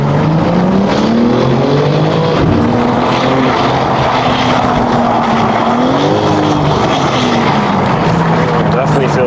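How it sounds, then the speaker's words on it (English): A BMW G80 M3 on its first drive, engine droning loudly and steadily from inside the cabin, the pitch rising and falling through gear changes, with road noise underneath. "first drive in the M3"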